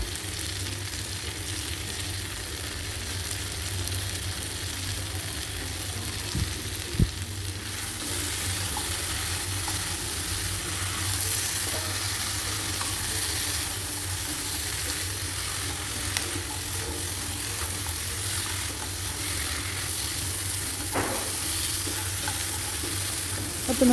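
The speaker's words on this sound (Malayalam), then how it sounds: "1 മിനിറ്റ് നേരം ഒന്ന് നന്നായിട്ടൊന്ന് ഫ്രൈ ചെയ്തെടുക്കാം" Crab frying in hot oil with curry leaves in a pan, a steady broadband sizzle running throughout, with a few sharp clinks of a spoon stirring now and then.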